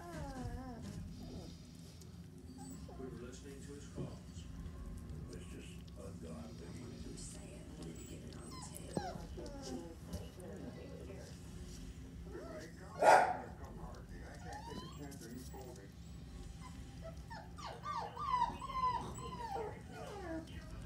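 Small dogs whimper and yip in short, high bursts, with one sharper cry near the middle, over a steady low hum and people talking.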